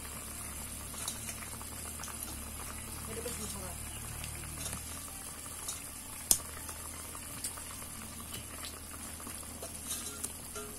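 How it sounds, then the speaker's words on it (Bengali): Soybean kofta curry gravy bubbling and boiling steadily in a pot, a continuous low blubbering simmer with soft pops, close and fairly quiet, with one sharp clink partway through. "টকবক টকবক করছে।"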